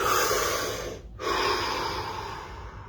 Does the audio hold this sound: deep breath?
yes